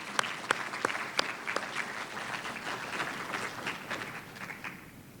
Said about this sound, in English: So can we have a round of applause for Mayor Jason Hayes?